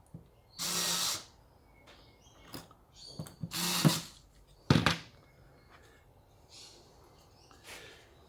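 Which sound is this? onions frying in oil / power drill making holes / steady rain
power drill making holes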